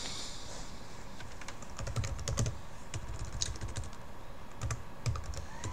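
Quick bursts of keyboard typing, clicking keys in short irregular runs with brief pauses, close by in a quiet room.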